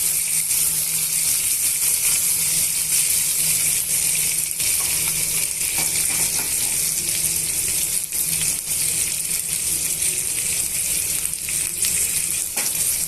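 Vermicelli upma mixture being stirred and roasted in a pan, a continuous close sizzle with scraping and clinking strokes from the spoon, steady and loud throughout with no talk.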